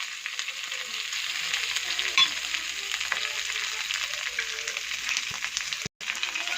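Coriander leaves sizzling and frying in hot oil with a mustard seed tempering for tomato chutney, a steady close crackling hiss that runs almost unbroken, with a brief stir partway through.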